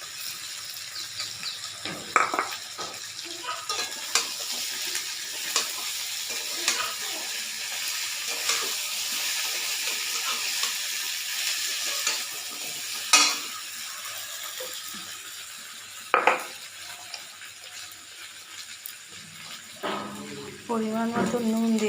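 Gobindobhog rice sizzles and fries in a pan with fish head, a soft steady crackle broken by occasional stirring scrapes, faint and close with a voice talking at the end.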